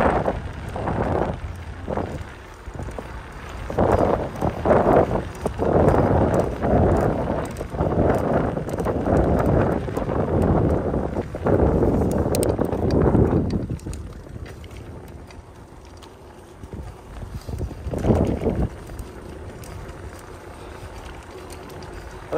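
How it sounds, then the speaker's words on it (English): A strong headwind buffets the microphone during a bike ride on the Ballona Creek bike path, making a heavy, low rumbling roar that swells and fades and then drops away toward the end. "It's a lot windier today than it was the other day, but rather the wind is in my face."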